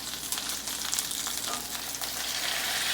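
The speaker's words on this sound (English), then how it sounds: "So now I'm going to sear it on all sides" Prime rib searing in a cast iron pan gives a loud, steady, hissing sizzle that holds evenly throughout without speech.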